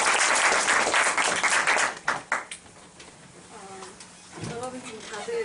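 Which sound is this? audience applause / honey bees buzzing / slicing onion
audience applause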